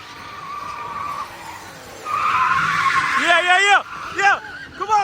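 A muscle car spins its tires at a street takeover, engine roaring and rubber squealing loudly and steadily, with sharp rising revs in the last seconds, close and continuous under crowd noise.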